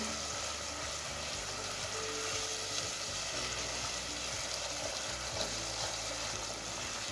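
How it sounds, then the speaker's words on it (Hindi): Masala with ginger-garlic paste frying in a pan for baingan salan, a steady broadband sizzle that holds evenly throughout, close and moderately loud with no voices. "अब अच्छी तरीके से मिक्स कर लेंगे और थोड़ी देर हम इसको भूनेंगे।"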